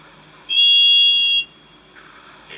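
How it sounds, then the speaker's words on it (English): A toy steam engine whistle gives one steady, shrill, high tone that lasts about a second, loud and close, followed by a short soft hiss of steam. "She even tried to whistle like Thomas."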